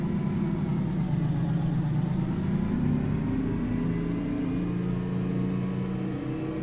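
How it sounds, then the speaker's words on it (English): A Mack R truck with a 12V92 turbo two-stroke engine in American Truck Simulator, giving a steady, loud low rumble with a droning engine note that rises and shifts slightly in pitch, heard alone. "this one's got a 12V92 turbo two-stroke in it"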